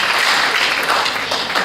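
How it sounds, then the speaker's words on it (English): Graduates at a commencement ceremony give a loud, dense round of clapping that fills the room for a moment. "Yes, you can give yourselves a round of applause."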